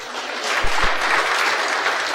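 Congregation applause breaks out during an Ilocano-language church sermon, a dense, steady patter of many hands clapping that holds at an even level throughout, with no voices over it.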